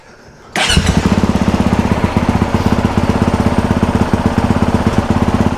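A Honda CRF 450RX dirt bike engine fires up abruptly and settles into a loud, close, rapidly pulsing thump that stays steady and strong to the end.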